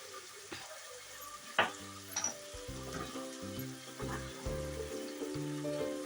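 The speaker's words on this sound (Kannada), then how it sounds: "ಇವಾಗ ಎಲ್ಲ ಹಾಕಿದ ಮೇಲೆ ಚೆನ್ನಾಗಿ ಫ್ರೈ ಮಾಡಬೇಕು, ಚೆನ್ನಾಗಿ ಮಿಕ್ಸ್ ಮಾಡಬೇಕು" Tomato and spices fry and get stirred together in a pan for bisi bele bath, with a soft sizzle under repeated scraping strokes of a spoon, close up and fairly quiet, with no talking.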